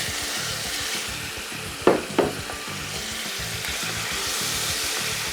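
Chicken frying in a pan of aromatic spices for yakhni pulao gives a steady, close sizzle, with two sharp clanks of a utensil against the pan near the middle and no talking.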